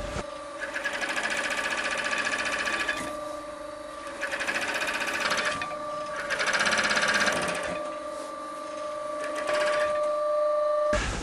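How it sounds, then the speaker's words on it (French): A double-thread sewing machine stitches along a glued wetsuit seam in bursts of fast, steady mechanical whirring, pausing briefly between runs, loud and close with no talking. "on coule la combinaison tout le long du collage avec une machine à double fil"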